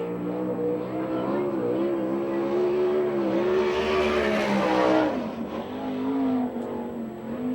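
A USAC/CRA sprint car on a Buckley chassis with an AEC engine screams through a qualifying lap at Phoenix, its loud, high engine note rising and falling as it accelerates through the turns.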